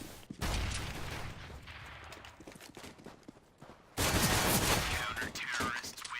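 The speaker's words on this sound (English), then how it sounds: "now you see your teammates getting shot up by two guys" Gunfire crackles in a tactical shooter video game as teammates are shot up by two enemies, with bursts of rapid shots, a quieter lull, then a second loud volley.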